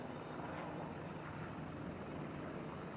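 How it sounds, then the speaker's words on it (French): Several military helicopters carrying mountain commandos out of Gao fly by, a steady, even engine and rotor drone at moderate distance with no break. "45 commandos montagne dans plusieurs hélicoptères."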